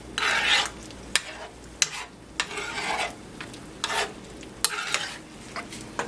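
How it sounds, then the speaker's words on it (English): A creamy chicken marsala sauce cooks down in a pan, and a utensil scrapes and stirs through it in uneven bursts over a soft bubbling sizzle, with a few sharp clinks against the pan. "we're going to cook that down. Mix it up."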